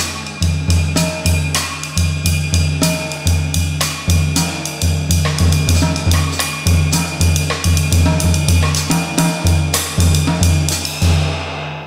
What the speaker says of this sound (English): We adapted this rhythm to put it in 5-4